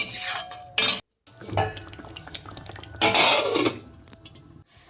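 A spoon scrapes and clinks in a pan while salt and sugar are stirred into a vegetarian paneer masala, with irregular metallic knocks and sizzling close up.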